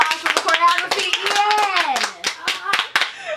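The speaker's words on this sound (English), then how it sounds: "A round of applause for the choreography." Hand claps for a dance choreography ring out as a quick run of sharp, close claps, mixed with excited voices talking and exclaiming over them.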